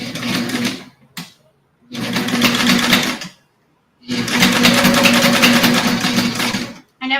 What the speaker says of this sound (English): I'm sewing with my left foot